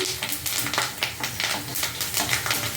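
Mixed green leaves frying in a pan, a steady close sizzle with soft stirring scrapes throughout, no voices.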